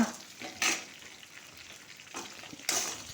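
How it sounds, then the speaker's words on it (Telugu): Dried red chillies fry in a pan with green chillies, a quiet hiss broken by two short, sharp bursts of stirring and sizzle, close and with no talking. "చూడండి, ఎండుమిరపకాయలు వేగేవి, కలర్ మారింది కదా"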